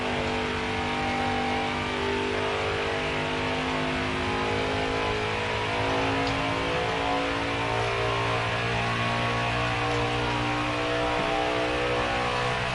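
NASCAR Heat 4 stock car roaring at Pocono Raceway, its engine holding a steady loud drone with layered harmonic tones and occasional shifts in pitch, near and continuous with no talk over it.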